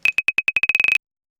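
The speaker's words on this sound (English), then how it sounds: "the sort of sounds I'm talking about is a simple clave here which will sound something like this" A synthesized clave clicks in a quick run of bright, tonal taps that accelerate from spaced hits into a rapid flurry, then stop abruptly, crisp and alone.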